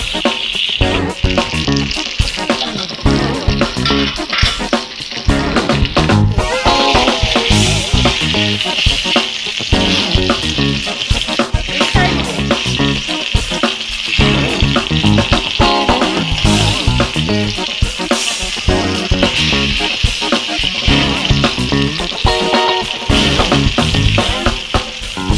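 Eggplant slices fry loudly in hot oil and are stirred and turned, giving a close, constant sizzle broken by frequent scraping and clattering from the utensil against the pan.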